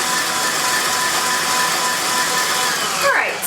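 A stand mixer whips vanilla bean marshmallow mixture at high speed, a steady loud mechanical whir with a slight rattle throughout.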